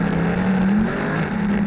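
A sprint car rolls around the track at the Knoxville Nationals warming its tires under caution, its engine droning steadily at a low, even pitch with a slight dip midway, heard close from the car.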